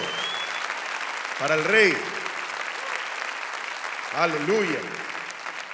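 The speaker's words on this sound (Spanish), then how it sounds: "si usted puede meterle un poquito más de fuerza a esas palmas, dele con todo" A church congregation claps steadily in a dense, continuous wash of applause, with a voice calling out over it twice.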